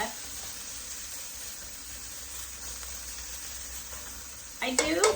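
Minced garlic sautés in a pan, a soft steady sizzle running throughout, with a brief clatter of stirring near the end.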